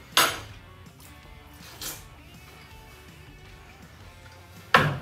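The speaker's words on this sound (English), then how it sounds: "we're gonna cut in to one of our chops" Knife cutting into a smoked pork chop on a plate: a sharp clink of metal on the dish at the start, a softer one midway and another at the end, with quiet cutting between.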